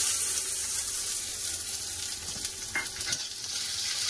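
Chopped onions tipped into hot oil tempered with five-spice, bay leaf and a dried red chilli, a loud continuous frying hiss with faint stirring underneath, no talk.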